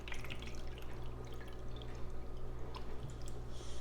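Liquid poured through a fine mesh strainer lined with a single layer of cloth, a steady close trickle and drip running continuously for a few seconds with no talking.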